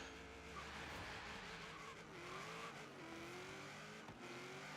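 A Holden racing through a city street in Forza Horizon 3, its engine revving and climbing with tire squeal and skidding, steady and moderately quiet without talk.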